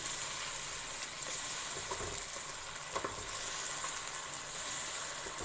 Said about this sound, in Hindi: अभी मैं 3 टेबलस्पून इसमें योगर्ट ऐड कर दूँगी और 2 से 3 मिनट के लिए इसको पकाऊंगी।